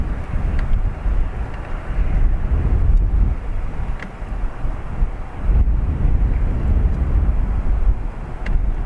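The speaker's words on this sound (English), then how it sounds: "WestJet Dreamliner in from Calgary" A WestJet Boeing Dreamliner arriving from Calgary at Dublin Airport gives off a deep, rolling rumble that rises and falls, with wind buffeting the microphone and a few faint clicks.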